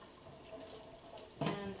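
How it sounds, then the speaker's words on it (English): Lukewarm tap water trickles lightly and steadily into a sink, a soft, close, continuous wash with a slightly stronger splash near the end. "I'm going to turn lukewarm water on this side, just really lightly"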